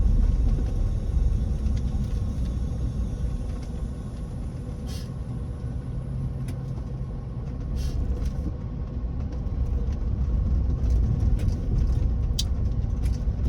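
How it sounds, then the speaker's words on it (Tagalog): Heavy road traffic flows in a steady, dense rumble of engines and tyres, with faint higher clicks and clatter now and then above the constant low drone. "Ayan, grabe ka traffic guys"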